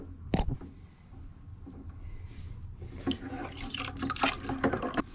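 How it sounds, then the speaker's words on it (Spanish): Respirator mask filters are rinsed in clean water, with soft splashing and swishing close by that grows busier and louder toward the end, following a sharp knock near the start. "ahora las vamos a enjuagar en el agua limpia"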